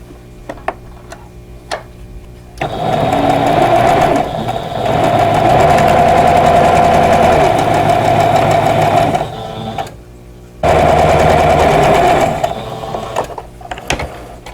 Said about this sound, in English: I'm going to sew from this corner down to this corner.